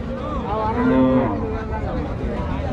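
A dairy cow, among Jersey, Friesian and crossbred cows at a busy village cattle market, lets out one long, loud, close moo over a constant crowd murmur.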